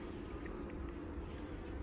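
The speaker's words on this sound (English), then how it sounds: "But we got a lot more bees in here than we did have." Honey bees buzzing steadily inside a hive box during a late September hive check at a lakeside apiary, a dense continuous drone heard close and fairly faint with no talking.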